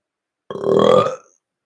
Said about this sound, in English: Why you keep burping? Stop it.